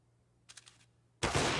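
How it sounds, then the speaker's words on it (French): A sniper rifle cracks in Counter-Strike, a sudden loud blast after a brief, faint patter of clicks, leaving a dense burst of noise that cuts off the clip. "le coup de sniper dans la tête de Config"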